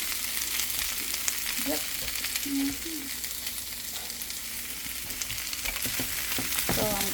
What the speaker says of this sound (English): I'm gonna put the potatoes in there, and I'm going to lower the heat.